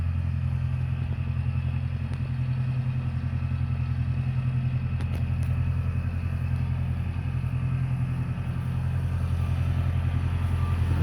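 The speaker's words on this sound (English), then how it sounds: "Love this tractor." Old restored farm tractor running steadily nearby: a low, even engine drone with a regular chugging pulse and light mechanical clatter, unbroken throughout.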